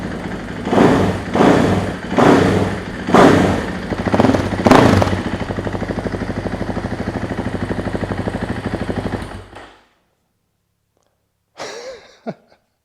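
A 2024 KTM EXC-F 500 TPI motorcycle engine fitted with an FMF muffler runs loud and close, giving several revving blips before settling into a steady idle that cuts off abruptly, followed by a brief faint knock.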